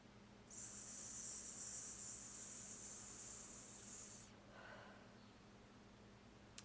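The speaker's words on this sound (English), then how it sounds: "that is the breathing exercise for the breathing technique called Appoggio breathing" Appoggio breathing exercise: a single long, close, hissing breath of about four seconds, steady and breathy, followed by a fainter, softer breath.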